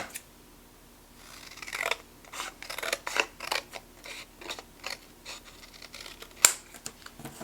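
Scissors snip through a piece of scrapbook paper for a handmade mini photo album, a run of close, crisp cuts in an uneven rhythm over about six seconds, fairly quiet, with no talking and one sharper snip near the end.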